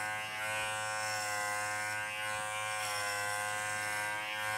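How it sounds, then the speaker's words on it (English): Electric dog clipper running through a Goldendoodle's thick coat, a constant close buzzing motor hum with faint shifts as the blades move through the fur, no talking. "I can start it with a clipper"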